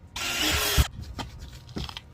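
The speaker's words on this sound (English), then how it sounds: "So they recommend using a 1/8 inch drill bit for that and make our holes." A drill with a 1/8 inch bit bores holes in a plastic kayak hull for anchor trolley pad eyes. It gives a close, loud burst of whirring that cuts off sharply, followed by a few faint knocks.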